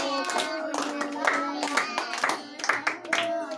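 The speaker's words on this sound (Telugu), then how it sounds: "మీరందరు క్లాప్స్ కొట్టండి" A group of children claps hands together at a 99th birthday celebration for Sathya Sai Baba, quick rhythmic claps layered over their voices singing along.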